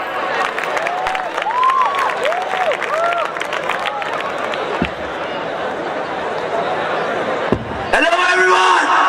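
Audience applause for a band from Galgotia, Greater Noida at a prize distribution event, a steady crowd roar of clapping with cheers and chatter mixed in, sustained throughout and lifting again near the end.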